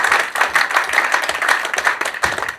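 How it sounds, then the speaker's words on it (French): An audience claps loudly and steadily, with dense applause running throughout and small surges in intensity. "Vous pouvez l'applaudir fort."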